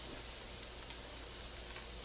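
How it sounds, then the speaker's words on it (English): Noodles for okonomiyaki sizzle steadily in a hot pan on a stove, a soft continuous crackle with a couple of brief, slightly sharper pops. "They're frying. They're going to get a little crispier."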